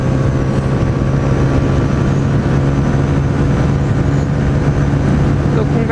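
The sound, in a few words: Honda Titan motorcycle engine while riding with passenger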